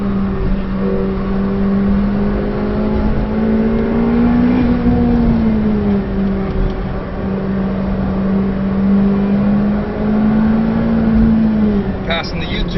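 Engine of a McLaren 720S on the Nurburgring, a steady loud drone with a strong low tone that rises and falls as the car accelerates and eases, continuous throughout with a voice talking over it inside the cabin.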